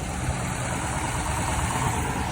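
A 1962 Ford rat rod truck engine idles steadily just after starting, a continuous low, rough rumble with even vibration throughout and no voices.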